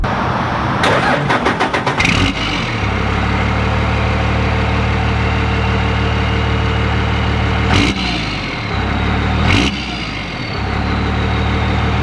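A Cummins diesel truck engine with an upgraded 3.5 or 4 inch exhaust cranks and fires into a loud, steady idle, with a couple of sharp bursts or blips partway through.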